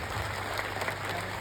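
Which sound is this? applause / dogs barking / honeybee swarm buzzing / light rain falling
applause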